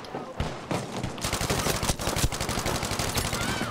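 Dense gunfire in Battlefield V: rapid automatic bursts and overlapping shots, loud and close, firing almost continuously across the whole stretch with a few brief dips.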